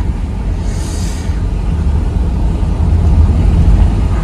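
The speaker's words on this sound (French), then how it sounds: "Vous voyez, il y a des bosses là et ça roule plutôt pas mal." A newly restored car rumbles along with a low, steady engine and road drone, its tyres thudding faintly over bumps in the road; no one speaks.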